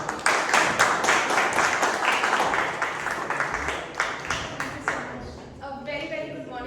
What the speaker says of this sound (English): With a huge round of applause, ladies and gentlemen, please welcome Toastmaster Muskan.